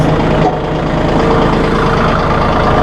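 A Massey Ferguson hydrostatic tractor runs steadily at a low idle with a continuous deep rumble, close and fairly loud, with no talking.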